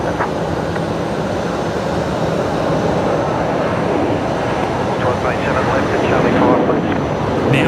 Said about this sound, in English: There's the Air Callan 320 Neo.